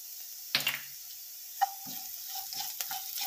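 Green tomato, brinjal and green chilli curry frying in a pan in a village-style kitchen, a soft continuous sizzle with a few light scrapes and clinks of stirring, fairly quiet and close.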